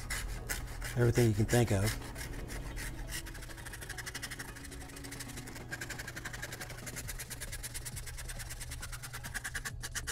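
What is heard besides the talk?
filing with a rasp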